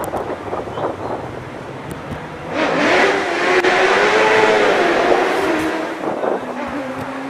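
An OMS hill climb race car accelerates hard on a British Championship hill course, its engine note rising and swelling to a loud, sustained snarl for several seconds before easing, with wind buffeting the microphone throughout.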